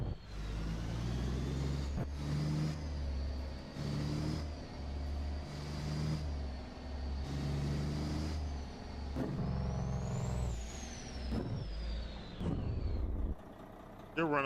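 A heavy truck engine in American Truck Simulator drives and revs, running light without much load, its drone rising and falling through repeated gear shifts over about fifteen seconds, steady and prominent with a faint high whine on top.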